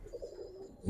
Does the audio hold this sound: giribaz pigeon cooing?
yes